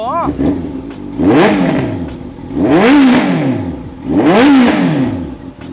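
A Triumph Scrambler 800 motorcycle engine revs up hard three times in a row, each roar climbing and falling, loud and close, with a voice briefly heard.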